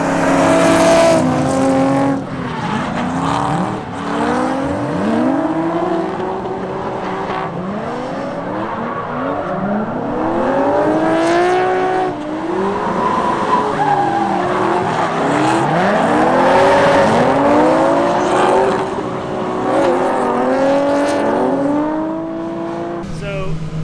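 A BMW 318Ti drift car running a track layout, its engine revving and rising and falling continuously over repeated tire squeals and skids, loud and near throughout, with people talking over it.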